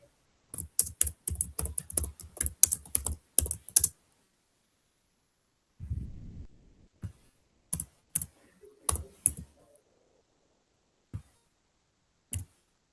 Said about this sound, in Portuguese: tá ruim de digitar